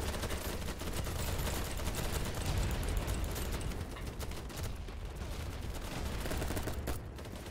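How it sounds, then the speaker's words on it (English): Gunfire in the video game BattleBit, a dense fusillade of rapid shots and bursts rattling continuously at moderate distance, fairly quiet overall with no talk over it. "Two shots."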